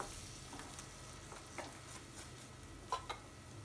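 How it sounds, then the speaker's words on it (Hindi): Ground tomato masala fries gently in oil over a low gas flame, a very faint, soft sizzle with a few light stirring scrapes, quiet and close. "गैस की फ्लेम हम लो रख के मसाले को अच्छे से हम भून लेंगे।"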